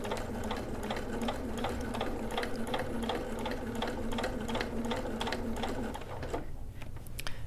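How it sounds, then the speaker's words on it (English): A hand-cranked sewing machine stitches along basting lines on a welt pocket, its needle ticking in an even, rapid rhythm over a low hum, slowing and stopping near the end with a few soft clicks. "I'm going to sew along these other basting stitches"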